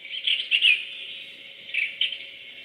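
Birds chirp outside on a winter day after a snowstorm, bright repeated tweets in two bursts, one early and one late, fairly close and clear over a quiet background.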